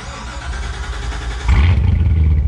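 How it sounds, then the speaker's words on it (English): Cold start of a stock Chevrolet Corvette C7 Z06 supercharged V8: starter whir, then the engine catches with a loud, deep bark about halfway through and settles into a rumbling high idle. "You get a cold start on a stock Z06 here."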